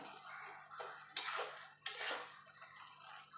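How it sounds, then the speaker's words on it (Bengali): A lid set on a pot of bottle gourd cooking with lentil dumplings, heard as two sharp metallic clanks a little under a second apart, with faint kitchen clatter around them. "এবার এটাকে আমি ঢাকা দিয়ে দেবো ঢাকা দিয়ে মিনিট তিনেক রান্না করে নেব"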